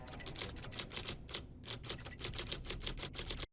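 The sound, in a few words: typewriter typing in a TV episode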